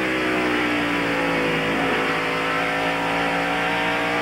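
NASCAR stock cars roar past during the 1993 Bud 500, a thick, continuous engine drone with rising and falling pitch that stays loud throughout and carries no voices.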